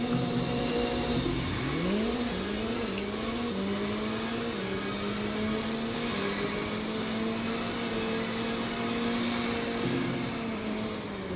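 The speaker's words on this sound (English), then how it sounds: "I'm literally racing a Chiron." Bugatti Chiron engine in a Roblox Driving Empire race, a steady droning whine that climbs as the car accelerates, with brief dips at gear shifts, holding loud and close throughout.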